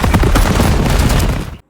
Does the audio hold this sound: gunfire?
yes